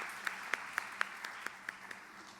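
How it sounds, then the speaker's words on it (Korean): Scattered, sparse handclaps from a church congregation at a Sunday morning worship service, a few distinct claps spaced evenly over a quiet room. "박수로 올려드립니다"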